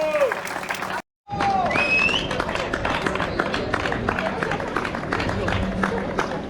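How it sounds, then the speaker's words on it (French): Crowd clapping for the overall podium at the Saute Mouflon trail race in the Caroux, mixed with a loud announcer voice and whistle-like tones, with a brief dropout early on before the clapping and chatter continue. "Et on peut applaudir bien fort ce podium scratch"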